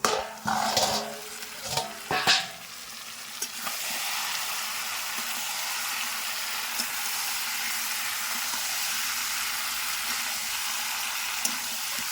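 Lid lifted off a pot of chicken cooked with ground spice paste, a few clanks and scrapes at the start, then a steady loud sizzle of frying that carries on alone.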